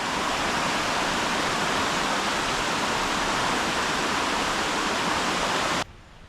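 A river flows at a riverside near a farm. Its broadband rushing hiss runs steady and close, then cuts off abruptly near the end.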